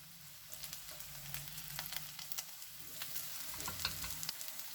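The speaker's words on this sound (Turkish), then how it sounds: "Hepsi bir tavaya sığmadığı için ben ikinci bir tava daha kızartmak zorundayım." Meatballs frying in a pan, a faint steady sizzle with soft crackles and occasional light clinks, no voices.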